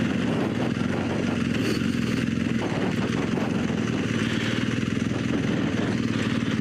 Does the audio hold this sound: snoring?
no